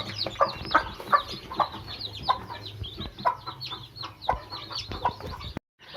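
Close, repeated clucking from a first-time hen among high, busy cheeps of chicks in a brooder, continuous and chattery over a low steady hum, ending abruptly.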